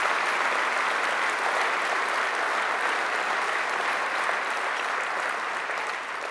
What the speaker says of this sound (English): I think a special round of applause for the volunteers